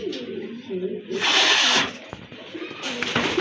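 Domestic and imported pigeons in a loft for sale give low, soft cooing. A bursty hissing noise and nearby talk partly cover the coos.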